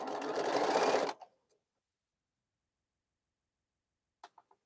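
A Bernina sewing machine runs in a short steady stitching burst, then stops abruptly, followed by silence and a few faint small clicks near the end.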